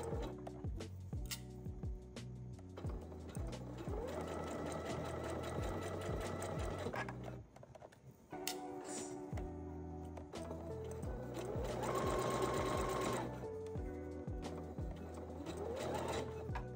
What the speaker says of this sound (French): Vous pouvez coudre à la machine